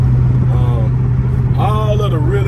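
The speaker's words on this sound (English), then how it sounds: "now we got that exhaust system happy with the stainless works inch and 7/8 headers on here with a 3-inch collector" A 392 V8 idles through stainless headers with a 3-inch collector and a 3-inch MBRP exhaust, giving a steady, deep low rumble that runs throughout while someone talks over it.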